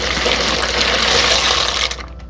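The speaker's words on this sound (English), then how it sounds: "Then I'm gonna pour in some organic pasta" Organic pasta poured into a pot of salted boiling water, giving a continuous loud rushing, bubbling splash that cuts off near the end.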